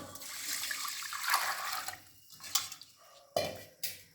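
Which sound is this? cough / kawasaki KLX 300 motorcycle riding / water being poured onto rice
water being poured onto rice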